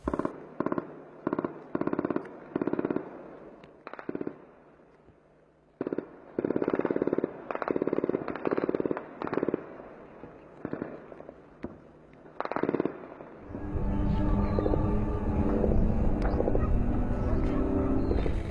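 Urban combat in Marawi city, with sharp bursts of gunfire and heavy thuds of explosions. Later a loud, steady engine-like roar takes over, and a voice can be heard faintly in places.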